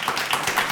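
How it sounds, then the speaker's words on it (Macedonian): Brief burst of audience applause, a steady patter of many hands clapping at moderate loudness, with no speech over it. "Аплауз"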